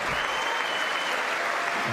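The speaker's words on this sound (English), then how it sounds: "She keeps clapping." Dense, steady applause and clapping from a large chamber audience at a State of the Union address, continuous and fairly loud throughout.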